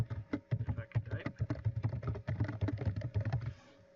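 Rapid typing on a computer keyboard sounds as a quick, close run of crisp key clicks, with an irregular rhythm and a brief pause before it trails off at the end.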